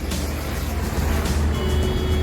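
A truck cab driving without its trailer gives a steady low engine drone with road rumble, continuous and close, with no talking.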